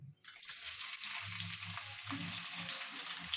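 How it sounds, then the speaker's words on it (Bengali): Beans and carrots frying in hot oil in a pan, a steady loud sizzle with crackling spatter that starts abruptly and continues, with some low clattering underneath. "তেলটা গরম হয়ে গেছে, এবার বিনস গাজরটা দিয়ে দেবো আমি"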